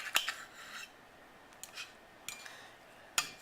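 A knife cuts into a hot portobello mushroom and scallop pot pie, giving a few quiet, separate scrapes and clinks of utensil on crust and dish, with no talking.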